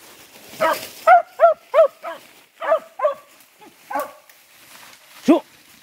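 A hunting dog chasing wild boar or deer in the forest gives about nine sharp, loud barks. They come in a quick run, then grow spaced out and uneven, with quiet gaps between them.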